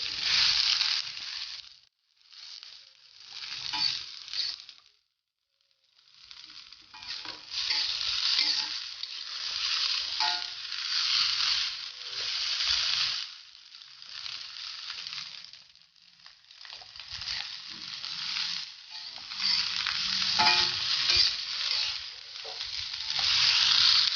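A spatula stirs egg fried rice with oyster sauce in a hot pan, giving a steady sizzle of frying broken by scraping stirs and brief pauses, close and fairly loud with no voices.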